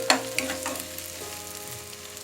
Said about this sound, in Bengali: পেঁয়াজ কুচিটাকে আমি এখানে বাদামি কালার করে ভেজে নেব।